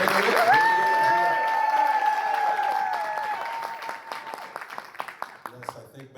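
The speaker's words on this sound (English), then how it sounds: "So give yourselves a round of applause" Audience applause at a live speaking event, a steady wash of clapping that thins into scattered individual claps toward the end, with a bright sustained musical tone ringing out at the start.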